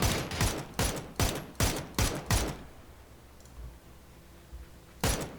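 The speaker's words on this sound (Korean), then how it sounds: "저 지원 사격 할게 아버지" Video game gunfire laid down as covering fire: six rapid, loud bursts in a regular rhythm, then a quieter stretch of faint clicks and rumble, and one last burst near the end, with no speech.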